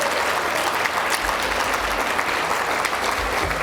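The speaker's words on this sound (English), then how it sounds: "One more big round of applause for NOSM University" At a university achievement celebration, a large crowd applauds loudly and continuously, a thick, even roar of many hands clapping up close, with no speech over it.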